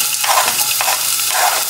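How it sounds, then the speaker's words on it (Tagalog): Chopped onions sautéing in hot olive oil in a pot, a steady close sizzle with brief stirring scrapes. "So, once mainit na yung oil, so let's saute the onions."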